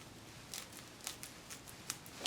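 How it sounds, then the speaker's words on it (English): Scissors snipping clear plastic wrap for a craft kaleidoscope, a series of faint, crisp cuts spaced irregularly, about six to eight snips in quiet surroundings. "I'm going to just cut a little bit of it off here"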